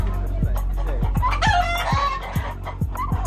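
A rooster crows loudly nearby inside an abandoned house used for a cockfighting operation, over a steady thumping rhythm, with other birds clucking in the background.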